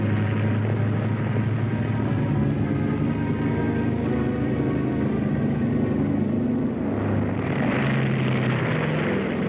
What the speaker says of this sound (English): And no airplane ever did what the XS-1 is about to do.